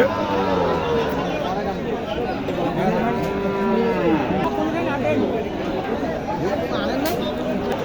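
Large cattle moo repeatedly at a busy Qurbani livestock market, the drawn-out calls loud and close over steady crowd chatter and babble.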